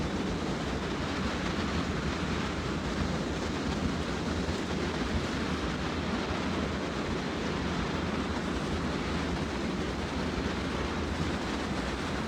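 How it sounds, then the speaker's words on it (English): Wind rushing and whistling steadily around a Caltrain Nippon Sharyo cab car at speed in Train Sim World, a constant loud broadband roar with no pauses or talk. "I love the wind whistling noise."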